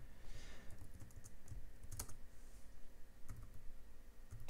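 Typing on a computer keyboard while writing PHP code, steady irregular key clicks with occasional heavier keystrokes, close and fairly quiet, no talking.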